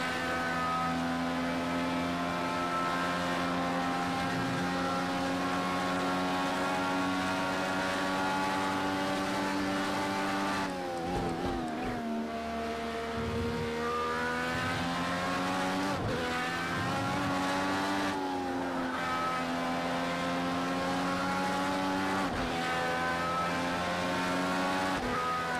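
Race car in Project CARS 2 driving a track, its engine droning steadily at high revs with pitch dropping and climbing through gear changes and braking, tires squealing briefly, loud and continuous throughout.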